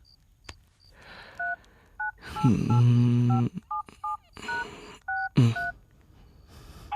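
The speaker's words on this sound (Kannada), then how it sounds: "ಫೋನ್ ಮಾಡೋಣ." Telephone keypad tones beep in a quick series of short, evenly spaced presses on a phone, clear and close, with a louder burst of noise in the middle and no speech.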